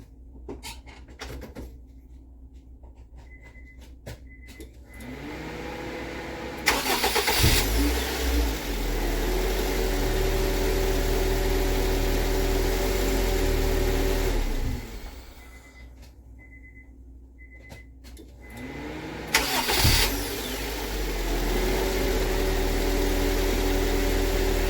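A 2001-2005 Acura 1.7 EL engine after a starter replacement: two separate starts, each a brief cranking burst that catches into a rising rev and settles to a steady idle, with clicks and quiet pauses between.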